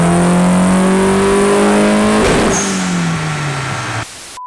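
A Nissan 240 engine revs loud and close, rising to a strained peak then falling away as the throttle drops, ending abruptly in near silence.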